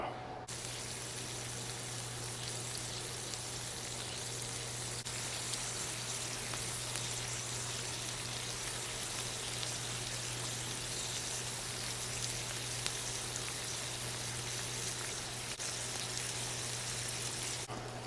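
Bacon frying on the steel griddle of a Tundra Pro 16 camp stove, a steady, dense sizzle and crackle that holds evenly throughout at close range, with a constant low hum underneath.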